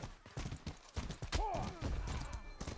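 Horse hooves clip-clopping in a video game, a quick uneven run of hoof knocks mixed with other game sounds and a brief whinny-like tone in the middle.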